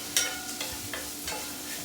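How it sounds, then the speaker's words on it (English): Steady frying sizzle from a pan over moderately high heat while a Hungarian dish cooks, with a few soft stirring scrapes rising above the continuous hiss, no talking. "Now that we're getting a sizzle here, we're going to turn this down."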